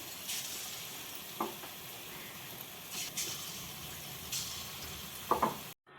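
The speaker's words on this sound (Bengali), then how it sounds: "আমি সমস্ত বড়াগুলো ভেজে নেব" Oil sizzles and bubbles steadily as small semolina fritters deep fry, with occasional louder crackles and a brief stir near the end.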